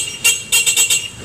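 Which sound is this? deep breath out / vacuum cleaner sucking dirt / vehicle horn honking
vehicle horn honking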